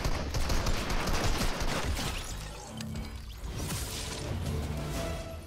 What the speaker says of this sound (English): I can't, this shotgun's terrible, this drum one.